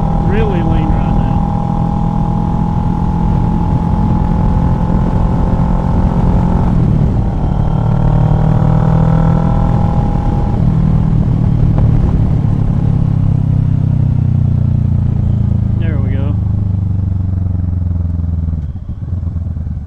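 A Kawasaki Ninja 650 motorcycle fitted with a Delkevic exhaust runs steadily while riding, its engine note shifting in pitch, with someone talking over it throughout.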